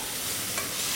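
Venison trimmings and mushrooms roast in a pan with cranberries, giving a steady, loud sizzle with a brief stirring scrape, no voices.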